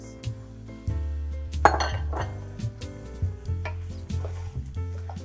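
Halved white button mushrooms tipped into a pan, a clatter of pot and utensil clinks with a sharper clank in the middle, followed by scattered taps and light sizzling, close by with no talking.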